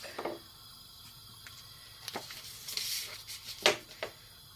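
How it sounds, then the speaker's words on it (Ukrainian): Butter crackles and sizzles in a hot pan, with a few sharp pops and spits over a steady soft hiss, close by. "на сковорідку кидаємо масло вершкового"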